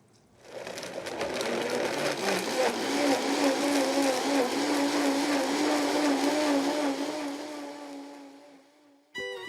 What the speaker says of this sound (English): what we're gonna do is puree it in the blender.